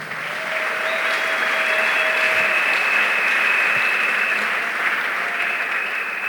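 A church congregation applauding steadily for several seconds, a dense continuous wash of clapping at even loudness with no talking.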